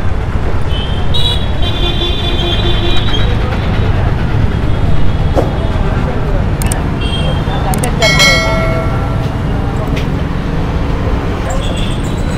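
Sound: riding a vehicle through road traffic with horns

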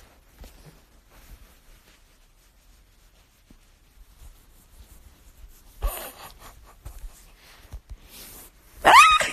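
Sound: dog barking

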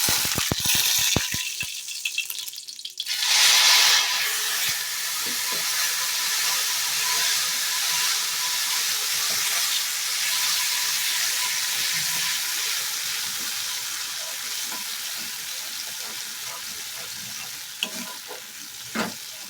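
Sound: spice paste frying and stirred in oil for cauliflower rezala

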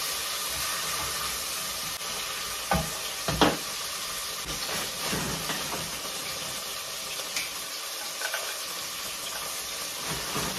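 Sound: frying dried carrots in a pan

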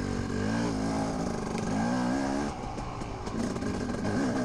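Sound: dirt bike engine during a hare scramble race

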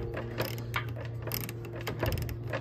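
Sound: ratchet turning radiator petcock

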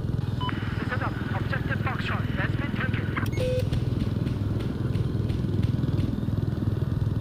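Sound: transport helicopter flying in Battlefield 4 video game

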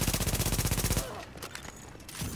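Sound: gunfire in the video game The Division

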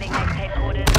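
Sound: STB 556 rifle gunfire in Call of Duty MW2 video game

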